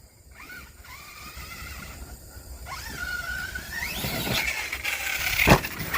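A Kraton 6S RC truck tearing around outdoors, its tires letting out rising, whining squeals over a rough, gritty motor and ground rumble that builds in loudness, with sharp bursts toward the end and no talking.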